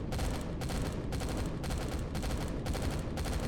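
Rapid bursts of automatic gunfire from turrets in the space survival game Empyrion Galactic Survival, firing in a steady repeating rhythm of short volleys, loud and continuous throughout.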